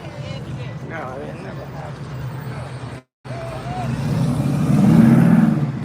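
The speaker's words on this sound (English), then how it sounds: "We're standing here filming cars like that making noise" Cars pass on a street corner, engines rumbling and swelling as one approaches loudly near the end, under a background of people chattering, with a brief dropout midway.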